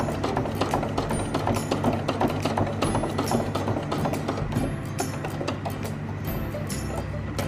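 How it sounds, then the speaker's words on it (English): A sewing machine stitching webbing diagonally across to the opposite corner, running in a fast, steady mechanical clatter of rapid needle strikes that continues throughout at close range. "lift it up and sew diagonally to the other edge, or the opposite corner"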